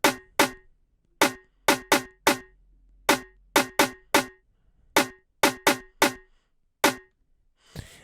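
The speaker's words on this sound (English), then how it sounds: "So to start off, we got this channel with 3 different snares." Three layered snare drum samples played in FL Studio, sharp dry hits repeating in an uneven rhythm, close and loud with gaps of silence between strikes.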